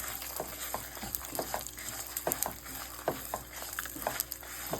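Fresh and dry coconut, fenugreek seeds and roasted gram frying in a pan, a constant crackling sizzle with intermittent scrapes and taps as the mix is stirred.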